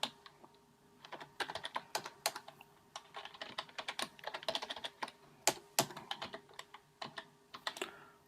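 Computer keyboard keys are tapped repeatedly in quick, irregular clusters of light clicks during circuit schematic design work, close and fairly quiet, with no voices.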